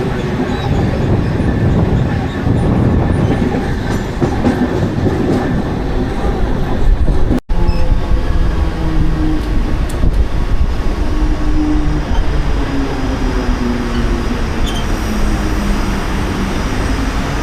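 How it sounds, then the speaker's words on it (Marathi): Local train bound for Panvel heard from inside a carriage, a loud continuous rumble and roar of wheels and motors with rhythmic rail clatter, steady throughout. "जी आता आपली ट्रेन आहे ती आता जाणार पनवेलला."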